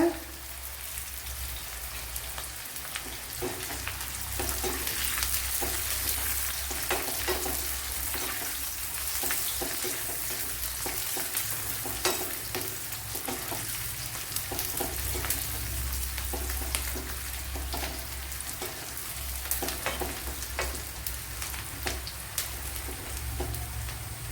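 Onions frying in a pan for a Kerala-style pumpkin dish, a continuous crackling sizzle like light rain, steady and close throughout with small pops scattered across it.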